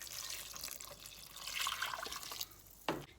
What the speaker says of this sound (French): Je vais ajouter au moins 1 litre d'eau.